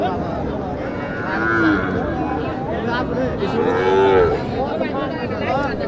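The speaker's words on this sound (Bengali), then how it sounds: "এবার আমি আপনাদের কিছু শাহিওয়াল বকন দেখাই দেখি" Sahiwal heifers at a cattle market in Naogaon, two drawn-out moos close by amid a constant murmur of crowd and market noise, with people talking in the background.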